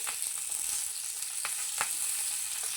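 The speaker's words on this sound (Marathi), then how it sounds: "आपण इथं मिरची तळून घेऊया. त्यासोबत लसूण पण टाकलेले आहेत" Chillies and garlic frying in a pan give a faint, steady sizzle with a few brief sharper crackles, no voices over it.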